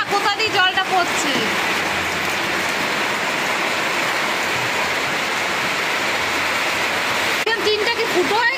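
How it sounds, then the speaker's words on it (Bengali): Rainwater pours and drips steadily through a leak in a tin roof into a house, a loud continuous hissing wash with voices talking briefly at the start and end. "দেখে রাখো না কোথা দিয়ে জলটা পড়ছে।"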